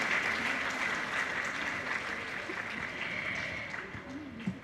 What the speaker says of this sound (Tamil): உங்கள் கரவொலியை எழுப்புங்கள்.